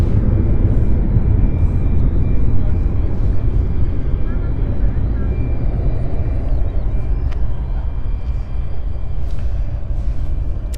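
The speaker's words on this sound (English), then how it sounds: "Embraer 190 again, mainly our main operating flight here, and this is BA 3289 to Milan." A British Airways Embraer 190 airliner bound for Milan roars at London City Airport, a loud, steady broadband rumble sustained throughout without letup.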